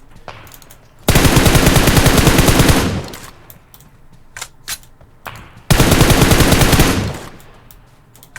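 Two long bursts of rapid automatic gunfire in a video game, loud and close, separated by a pause with scattered single shots and clicks.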